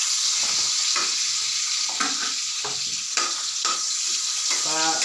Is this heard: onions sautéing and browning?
yes